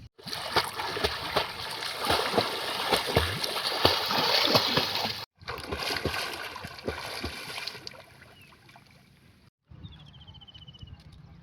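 Water splashes repeatedly as someone swims and kicks in a dam, irregular close splashes and patter that fade toward the end, with faint voices in the background.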